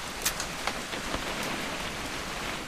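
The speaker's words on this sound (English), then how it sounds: "It's gonna rain the whole weekend, isn't it?" Rain falls steadily in the video game What Remains of Edith Finch, a constant hiss of drops on surfaces with a few louder splashes near the start, heard alone at moderate level.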